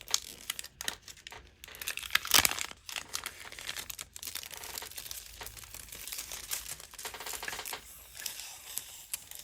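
Springtime decorative foil handled up close, crinkling and crackling in continuous bursts with one louder rustle, and no voices.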